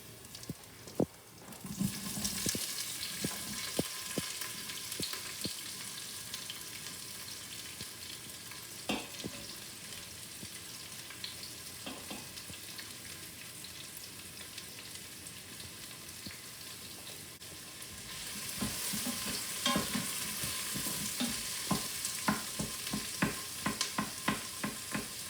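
Onions frying in a pan for chana masala, a steady sizzle with stirring scrapes and clatters throughout, growing louder and busier toward the end, with brief running-water sounds from a kitchen sink.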